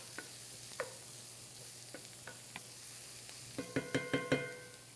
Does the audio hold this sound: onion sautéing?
yes